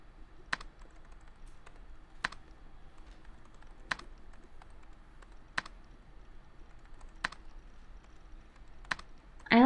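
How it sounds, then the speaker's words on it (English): Keyboard typing clicks from the visual novel game Chaos;Head Noah: sharp, isolated key clicks spaced at a slow, steady rhythm about every second and a half over a quiet background, ending with a brief louder burst. "I like the clicking sound of the keyboard, it's kind of relaxing."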